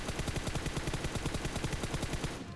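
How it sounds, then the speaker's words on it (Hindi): Rapid automatic gunfire in the BGMI mobile game, a dense, even burst of rhythmic shots lasting about two seconds before cutting off, with no talk. "तो मैं लेट के फायर करता हूँ।"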